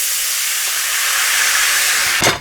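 White wine is poured into a hot pan and lets off a loud, steady steaming hiss that builds, ending in a short, sharper burst.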